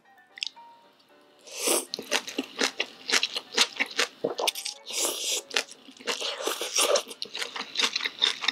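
Someone eats jjamppong noodle soup ingredients up close, with a rapid series of crunchy bites, wet chewing and slurping sounds in an irregular rhythm, loud and alone after a quiet start.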